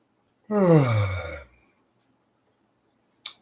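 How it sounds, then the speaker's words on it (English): A person yawns once, a drawn-out, voiced exhale sliding downward in pitch for about a second, close and clear, followed by silence and a brief faint click. "I just yawned"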